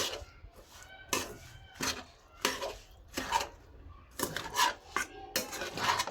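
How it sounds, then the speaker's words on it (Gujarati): A spoon scrapes and clinks against a pan while ginger and sugar syrup for aadu pak is stirred, in a series of irregular metallic strokes that are fairly quiet and close. "હવે એકદમ સારી રીતે આને મિક્સ કરી લેવાની છે"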